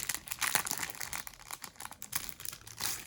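A stained glass style enamel pin being pulled free of its backing card, giving a close, quiet run of crinkly crackles and small clicks that lasts a few seconds, with no voices.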